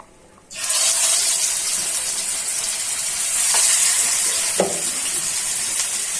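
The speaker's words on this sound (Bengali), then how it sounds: "এখন একে একে সবগুলা মাছ ভেজে নিই।" Pangas fish frying starts abruptly after a brief pause, then a loud, steady hiss of hot oil continues throughout, with a couple of faint clinks.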